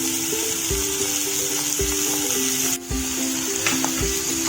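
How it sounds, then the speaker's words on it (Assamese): Duck meat frying in a pan, with a steady close sizzle and a few scraping stirs of the spoon, one brief clatter midway, and no voices. "মাংসখিনি আমি লাহে লাহে অলপ টাইম ভাজি ৰাখিম"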